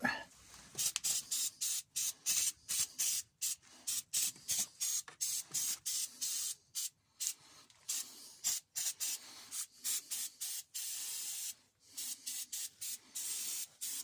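Protective battery grease is sprayed onto the battery terminals of a DAF LF horsebox in short, repeated hissing bursts with brief gaps between them, close by.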